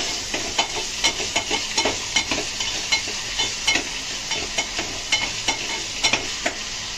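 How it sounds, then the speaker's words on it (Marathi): Chopped tomato is stirred into frying chicken masala, a steady hissing sizzle with regular scraping strokes of a spatula against the pan, close and even in rhythm. "टॅमॅटो टाकला तर परत मिक्स."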